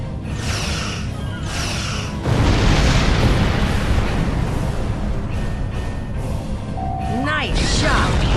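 Plasma beam weapon fire from a starship in Star Trek Online strikes a target, giving a sustained roaring, booming burst with whooshing energy over game voice lines and ambient space battle sound.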